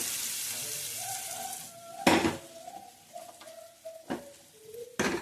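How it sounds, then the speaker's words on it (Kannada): Pudina-coriander paneer masala gravy simmers in a pan with a steady bubbling sizzle, broken by several sharp metal clanks of a utensil against the pan. "ನೋಡಿ ಚೆನ್ನಾಗಿ ಕುದೀತಾ ಇದೆ"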